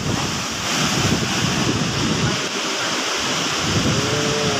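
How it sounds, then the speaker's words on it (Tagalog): Strong wind from Typhoon Uwan roars across the microphone over steady crashing surf in heavy rain, loud and continuous throughout with no pauses. "Lakas ang ulan, lakas ang hangin."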